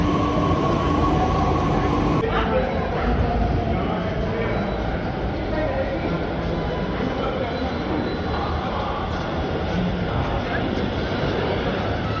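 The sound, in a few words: metro train arriving at station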